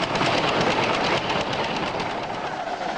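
A miniature live steam locomotive runs along a three-mile hobby track in Fordland, Missouri, producing a steady, loud rolling rumble with faint rhythmic rail clatter that stays constant throughout, with no voices.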